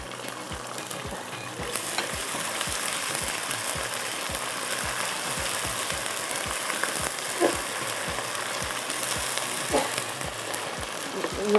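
Onion, ginger and garlic frying in a pan with a dense continuous sizzle, a spoon scraping and tapping in a regular rhythm throughout, while someone talks in the background.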